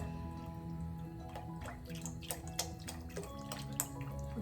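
Chicken bone broth poured into a soup pot, with a steady liquid trickle and scattered drips and splashes over a constant low background hum, close and even in volume.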